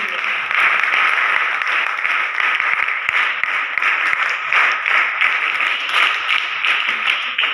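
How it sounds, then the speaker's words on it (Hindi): An audience claps steadily at a lamp-lighting ceremony honoring soldiers of the 1971 war victory, loud, close and sustained applause with no pause. "एक बार जोरदार तालियों से इस दीप प्रज्वलन और सैनिकों के सम्मान में"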